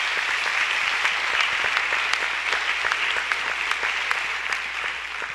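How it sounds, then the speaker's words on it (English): A crowd applauds congratulated participants at an education event, a dense, fairly loud and even wash of clapping from many hands that holds steady throughout. "Let's give them another round of applause,"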